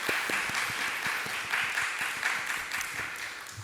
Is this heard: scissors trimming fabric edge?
no